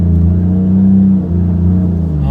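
A car with a Toyota 1JZ engine and rebuilt exhaust runs with a deep, loud rumbling drone that swells slightly and dips, heard close and steady with no talk.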